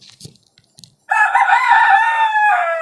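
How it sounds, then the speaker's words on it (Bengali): A desi village rooster crows once, close and loud, its long wavering call filling the latter part after a few faint clucks and rustles, with no one talking. "এই যে আমার একটা দেশি মোরগ ও একটা দেশি মুরগি"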